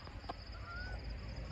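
Honking goose-like calls from migrating birds overhead in a park in Winnipeg, Canada, faint and distant, with a steady low rumble of background noise.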